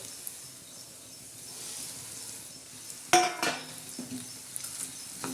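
Dried Bombay duck fish dropped into hot oil with browned onion, a sudden loud sizzle and clatter that settles into steady frying with stirring and a few utensil knocks.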